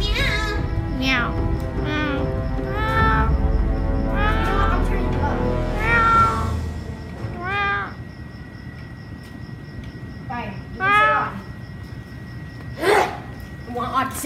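A voice imitates a cat, meowing repeatedly in drawn-out, wavering cries, with a few pauses and quieter stretches between.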